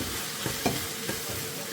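Spices with turmeric, red chili powder, garam masala and tomato fry and are stirred in a pan, a soft continuous sizzle broken by a few scraping strokes of the spoon.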